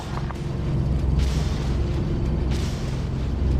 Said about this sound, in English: 基地现在是被狂轰